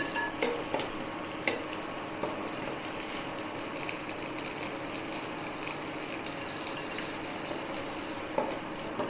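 Steady bubbling sizzle of cauliflower fritters frying in hot oil, fairly quiet and continuous, with occasional light clinks of a utensil.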